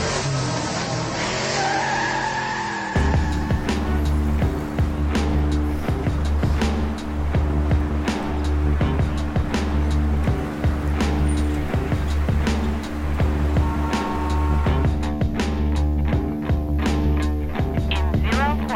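A car drives along with a steady low engine drone and scattered ticks and clicks inside the cabin, after a brief voice near the start.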